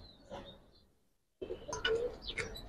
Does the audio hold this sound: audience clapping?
no